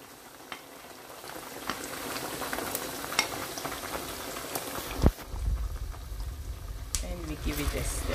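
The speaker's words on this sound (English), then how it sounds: "And we give it a stir" A gizzard stew with blended scotch bonnet peppers, tomato, onion, garlic and ginger is stirred in a sizzling pot. A spoon scrapes and clacks against the pot over a steady bubbling fry, loud and close, while someone talks.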